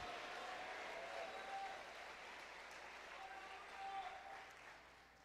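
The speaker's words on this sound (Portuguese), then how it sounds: "Dê um forte e forte aplauso ao Senhor e diga glórias ao nome dEle." Congregation applauding in a church service, a steady wash of clapping that stays fairly faint and distant before tapering off at the end.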